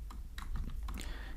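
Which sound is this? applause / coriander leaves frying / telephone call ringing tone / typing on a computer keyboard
typing on a computer keyboard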